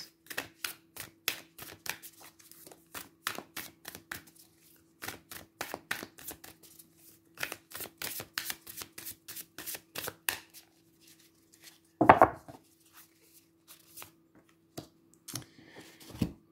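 Tarot cards being shuffled by hand: rapid, crisp riffling bursts in repeated runs with short pauses, close and fairly quiet, one sharper rustle near the end.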